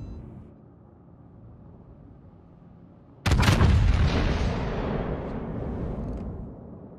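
A sudden, heavy blast as an enemy battleship explodes in a naval combat video game, cutting through a low hum and then rumbling on loudly before slowly fading.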